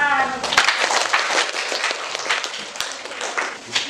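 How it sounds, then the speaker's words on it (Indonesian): A classroom of students claps for a classmate's answer, a short burst of moderately loud, uneven applause with some murmuring underneath. "Tepuk tangan."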